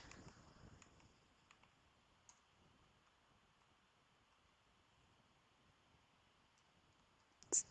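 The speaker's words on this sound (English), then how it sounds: "So now if I click on it, nothing happens." Computer mouse clicking in a quiet room with faint background hiss: a few soft, scattered ticks, then one sharper, louder click near the end.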